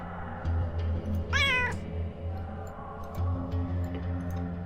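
In the video game Underrail, a cat gives one short, clear meow over a steady low electronic hum and faint ticking.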